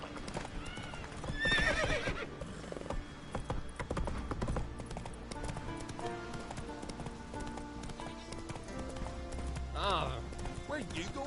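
The horse Roach in The Witcher 3 clip-clops along in steady hoofbeats and whinnies twice, near the start and near the end, while someone talks quietly over it.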